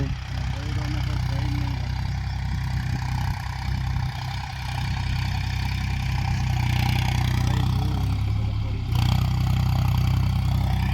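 A Mahindra tractor engine runs close by in a farm field with a steady, low, throbbing drone that holds at an even level throughout.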